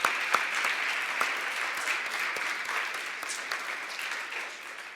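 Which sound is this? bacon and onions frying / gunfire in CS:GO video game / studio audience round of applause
studio audience round of applause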